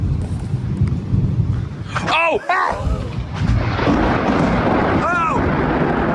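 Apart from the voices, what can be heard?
thunder from a massive lightning strike during severe thunderstorm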